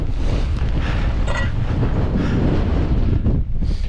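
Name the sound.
strong wind on Scottish Highlands mountainside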